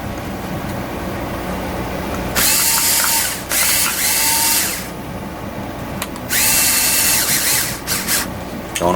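A power tool tightens the mount of a rocket propulsion boost kit on an RC car in two loud bursts of whirring and ratcheting, separated by quieter pauses with faint mechanical handling.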